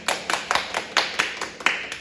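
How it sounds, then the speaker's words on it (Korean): A small children's church congregation claps at an online Sunday worship service, roughly eight distinct, fairly sparse claps in an uneven rhythm, close and moderately loud with no talking. "박수를 올려드립니다."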